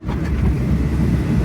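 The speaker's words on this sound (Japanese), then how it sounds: "いいねこの列車、なんかこんな感じいいね" A Thai railway passenger train without air conditioning rolls along, heard from inside as a steady low rumble of wheels and carriage noise, loud and continuous with no talking.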